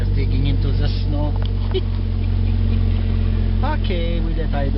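A car engine idles steadily in snowy winter cold after being pulled out of a garage, a continuous low rumble throughout, with a person talking intermittently over it.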